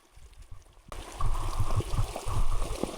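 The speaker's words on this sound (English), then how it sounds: "Another river crossing." Flowing water at a river crossing on a hike, starting near-silent and then a steady close babbling stream with splashy gurgles for the remaining seconds.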